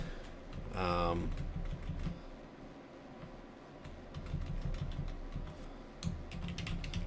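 Fingers type on a computer keyboard to rename a document, with soft irregular key taps and a brief rising electronic chirp near the start, recorded close in a quiet room.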